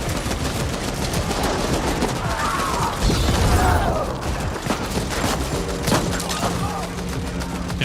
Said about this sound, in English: Okay, I'm shooting.